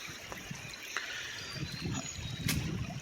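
A flooded, swollen creek flows with a steady, soft rushing and trickling wash, fairly faint and continuous with small splashes throughout.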